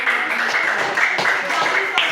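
Applause from students in a classroom, a short burst of brisk clapping heard under a voice talking and a steady tone.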